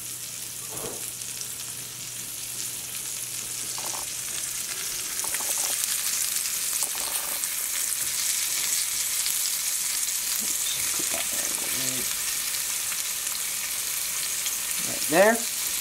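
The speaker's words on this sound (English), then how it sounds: "And you're just going to fry these, so we check in with you once they're golden brown?" Buffleduck pieces fry in hot oil with a steady, fairly loud sizzle throughout, and faint voices come and go underneath.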